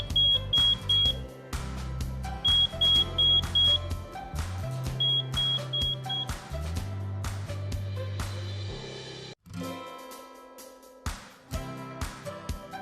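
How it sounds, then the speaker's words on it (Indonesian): A water level float sensor's buzzer beeps in short repeated electronic tones, in bursts of several, over a buzzing electronic backdrop with clicks, then cuts off briefly before faint clicks and tones resume nearby. "maka pelampung akan berada di bawah dan buzzer akan terus berbunyi"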